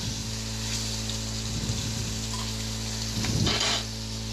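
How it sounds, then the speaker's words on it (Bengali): Hilsa fish pieces fry lightly in hot oil, a steady close sizzle that swells twice as the pieces are moved or stirred, with no talking. "তা আমি মাছটা বেশি একটা ভাজবো না অল্প অল্প ভেজে নেব"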